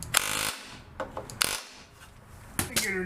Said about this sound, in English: We got our jiffy little power hammer here.